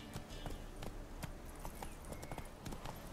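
Horse hooves clip-clop steadily in The Witcher 3 on PS4, a repeated trotting rhythm of dull knocks over a busy game soundscape, fairly close and moderately loud, with faint player chatter around it.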